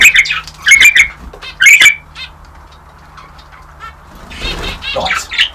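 Pet quail in an indoor aviary giving loud, sharp repeated calls in short bursts, with quieter chirps and a low hum in between and a final flurry of calls.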